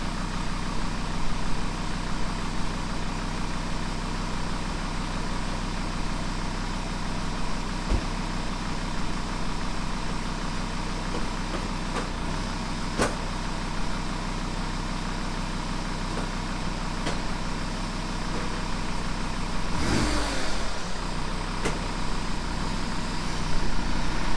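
A Jeep engine runs steadily with a low droning hum for a long stretch, a few faint knocks scattered through, and a brief scraping clatter near the end as an unsecured ramp gets shoved forward.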